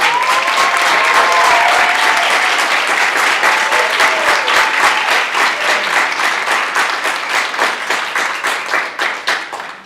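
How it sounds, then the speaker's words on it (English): A large crowd at a school board meeting applauding loudly and steadily for several seconds, the clapping thinning slightly toward the end. "please join me in giving a huge round of applause"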